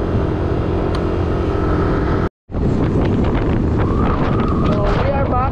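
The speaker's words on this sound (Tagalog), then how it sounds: "Ang lakas ng hangin, nagtataktak." Heavy wind buffets the microphone in a constant roar while riding at night, with a brief cut, then engine noise and a faint voice underneath.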